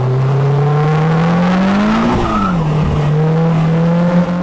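Tires of a Polaris Slingshot squeal loudly as they lose traction on a Malibu canyon road, a sustained screech that rises, dips and settles over the engine's drone, with no talking.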